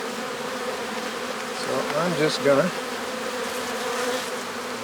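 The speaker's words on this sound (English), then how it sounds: "these bees are a little bit agitated" Agitated honey bees swarm and buzz around an open frame lifted from a nuc hive, a dense continuous drone close to the microphone with individual bees swelling louder as they pass, while someone speaks briefly.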